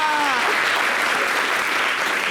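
A television studio audience applauds in a steady, dense wash of clapping, with a brief whistle-like tone at the start, holding level throughout.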